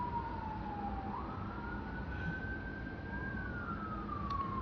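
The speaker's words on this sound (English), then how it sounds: "at least I'm catching the sirens" Emergency vehicle siren wailing at a distance, a single sweeping tone rising and falling over low traffic rumble, fairly faint and steady.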